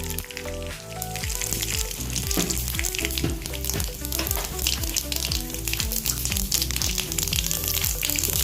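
Panch phoron spices crackle in hot oil in a kadai on a gas flame, giving a loud, dense, continuous sizzle with a low, steady tonal hum beneath it.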